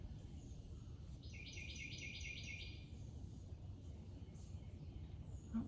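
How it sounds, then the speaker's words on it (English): A bird chirps outside in a rapid, repeated trill of high notes lasting about a second and a half, faint over a steady low background rumble, with no talking. "Oh, I just had a bird come over."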